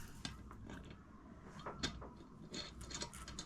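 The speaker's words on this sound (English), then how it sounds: "top part of the rivet in there, rivet press, and then that in there" Rivet press setting a rivet while sewing an embroidery scissors case, a few faint close mechanical clicks and soft metallic taps with light handling noise.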